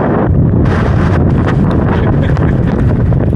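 A strong, steady rush of wind buffets the microphone throughout on a blustery early spring day on the Au Sable River, roaring loudly with a harsher burst partway in.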